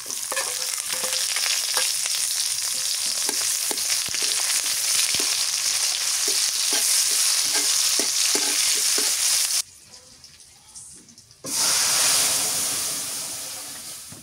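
Onions tossed into hot oil with tempered spices fry with a loud, dense sizzle and stirring scrapes, briefly dropping away before surging back and slowly easing off.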